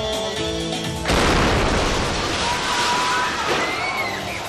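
A loud explosion beside police housing booms through a wedding hall where a crowd dances to music, the blast abruptly swamping the music with a sustained roar and rumble, close and overwhelming.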